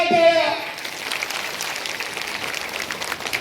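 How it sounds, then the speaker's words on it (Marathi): Applause at a political victory rally for a zilla parishad group: a brief voice at the start gives way to a sustained wash of crowd clapping that holds steady to the end. "जोरदार टाळ्या."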